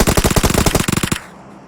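A VSS rifle fires in a video game match, a loud close-up rapid burst of about a dozen shots over roughly one second, then a short fading tail.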